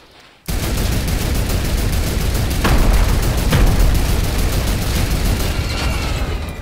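Rapid, sustained turret gunfire in an arena shooter video game, a loud continuous rattle of shots after a brief quiet start, with no talking over it.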